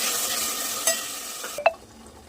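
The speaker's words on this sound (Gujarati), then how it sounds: "હવે આને સરસ હલાવીશું." Marinated vegetables hit hot oil in a pan and sizzle as they are stirred, with a couple of sharp utensil clinks before the frying hiss suddenly drops away.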